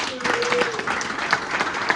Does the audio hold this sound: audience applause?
yes